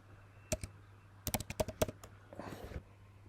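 Keys on a computer keyboard tapped while entering a search: two isolated clicks, then a quick burst of about seven crisp keystrokes, followed by a softer rustling flurry, close and clear over a low steady hum.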